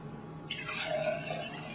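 Coconut water from a freshly opened young coconut pours into a glass, a continuous trickling, splashing stream starting abruptly and running steadily up close with no talk.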